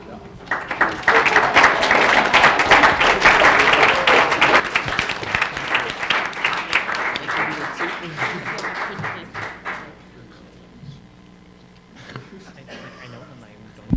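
An audience at a high school Scholars' Bowl championship match breaks into loud, dense applause that holds for several seconds, then thins out and fades around the ten-second mark as voices take over.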